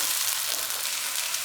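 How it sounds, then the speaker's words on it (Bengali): Chopped onions, about five tablespoons, frying in a pan over medium heat for a chicken korma, giving a steady soft sizzle that holds evenly throughout with no talking. "5 টেবিল স্পুন পেঁয়াজ দিলাম। এটাকে এখন আমি 10 মিনিট মাঝারি আঁচে ভেজে নেব।"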